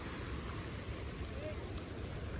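A steady, unbroken rush of fast-flowing floodwater after heavy rain near a bridge in Hoshiarpur, Punjab, fills the scene, a constant roar with no distinct splashes or pauses.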